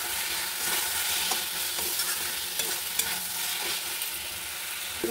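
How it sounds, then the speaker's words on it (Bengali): Fried potato and eggplant sautéed with spices in a pan for a light pabda fish curry: a steady, close sizzle runs throughout, with scattered stirring scrapes and clinks, and no talking. "এবার ভেজে রাখা দেখুন আলু বেগুন আমি দিয়ে একটু ভালো করে কষিয়ে নেব।"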